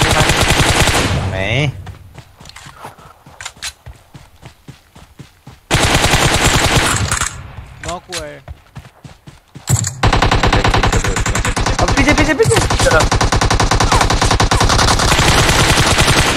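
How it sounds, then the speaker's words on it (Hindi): M249 machine gun bursts in PUBG Mobile, loud rapid automatic fire in several long volleys separated by quieter gaps with faint game sounds, the final stretch a sustained dense barrage. "M249 की गोली, M249 की गोली"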